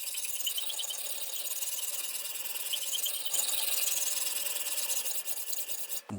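A ceramic single-bevel deba blade is rubbed steadily across a coarse 80-grit diamond stone in a sharpening jig, a continuous close, fairly quiet rasping with no voice.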